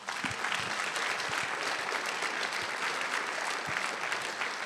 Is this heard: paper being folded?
no